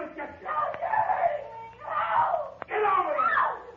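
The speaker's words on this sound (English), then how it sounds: "scream your guts out. See what it gets you." A woman screams in an old 1948 radio detective drama, several strained, wavering cries in a row, fairly faint and mixed with voices.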